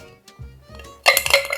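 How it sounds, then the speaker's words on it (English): An ice cube drops into a glass while a Paper Plane cocktail made with Buffalo Trace bourbon is mixed. A few soft low knocks come first, then a bright, short glassy clatter and clink. "Okay, ice cube in."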